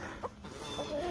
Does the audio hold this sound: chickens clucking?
yes